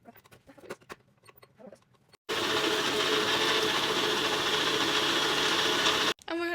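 An electric hand mixer whipping cake ingredients, switching on abruptly after some quiet handling clatter and then running as a loud, steady whirring drone for about four seconds before cutting off.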